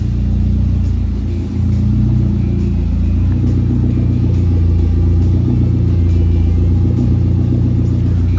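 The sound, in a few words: 2005 Dodge Neon SRT-4 ACR engine running, exhaust sound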